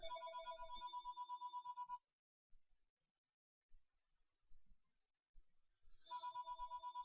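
A phone ringtone sounds loudly in a classroom during a college algebra lesson, a repeating electronic ring for about two seconds, then a pause with faint rustling before the ringing resumes.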